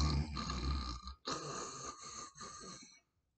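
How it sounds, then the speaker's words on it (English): A man snoring in two long, rough, rattling breaths separated by a brief pause, close and fairly loud, with no talking. "We also hear my father snore."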